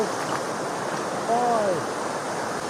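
Steady broadband rush of a waterfall at Complexo Paraíso in Delfinópolis, Brazil, filling the clip as a constant roar, with a brief faint tonal call rising over it midway.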